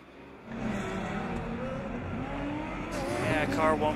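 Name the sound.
Formula Student race car passing by on track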